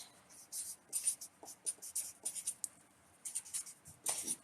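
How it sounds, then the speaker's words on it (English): Chalk or marker strokes of a teacher writing on a board during a live online chemistry lesson, a quiet, close series of short scratchy strokes in irregular bursts with brief pauses, no talking. "Let me write it here."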